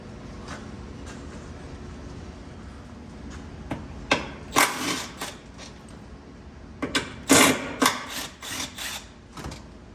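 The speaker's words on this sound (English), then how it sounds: "you take out those two 13mm bolts right there" Wrench working loose two 13mm bolts on the power steering cooler of a 2007 Cadillac STS, heard as a series of sharp metallic clicks and clanks in clusters, fairly close, with no talk.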